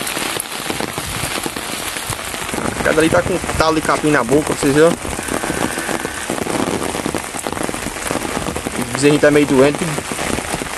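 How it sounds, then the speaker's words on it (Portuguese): Heavy rain pours steadily over the Bahia sertão countryside at the end of the afternoon, a dense continuous patter that runs throughout while someone talks over it close by. "Ó, a chuva. A chuva apertou, viu?"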